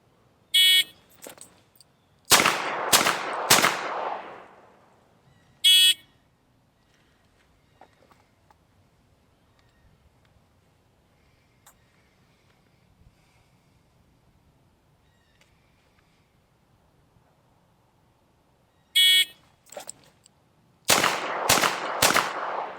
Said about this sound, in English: I have to draw and fire 3 rounds into the body of the target in a time limit of 5 seconds